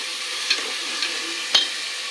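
Spoon stirring a tomato rice mixture in a pan, three soft scraping strokes spaced about half a second apart over a low steady sizzle, close and fairly quiet with no talking.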